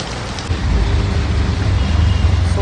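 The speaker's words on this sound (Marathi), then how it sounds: "मार्केटमध्ये पण भयंकर पाऊस होता." Heavy monsoon rain pours over a Mumbai market, a loud, steady wash of dense hiss with a low rumble that swells after the first half-second and holds without a break.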